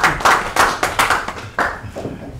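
Applause at a press conference, a short burst of several people clapping in uneven rhythm, fairly close and loud, fading toward the end.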